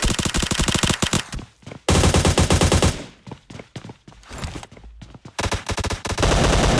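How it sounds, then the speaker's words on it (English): Heavy automatic gunfire in a battle royale video game, loud rapid bursts of shots broken by short pauses, with no talk over it. "Taking some rounds from the flank though."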